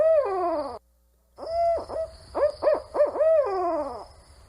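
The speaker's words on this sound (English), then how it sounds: "Speaking of barred owls, that's a barred owl call." A barred owl call played back from a broadcast unit for an owl survey: a descending wavering hoot, a short pause, then a rapid run of rhythmic hoots ending in a long falling note, loud and clear with no voices.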